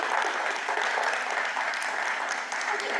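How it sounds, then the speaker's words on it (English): A school board meeting audience claps for middle school math teachers, a moderate, fairly distant wash of applause from a roomful of people that stays steady for a few seconds. "So a big clap for our middle school math teachers."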